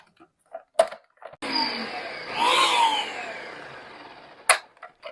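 A blender whirs steadily for a few seconds, blending pepper, garlic, ginger, onions and water, its motor pitch rising and falling as it chops, with brief kitchen clatter before and after.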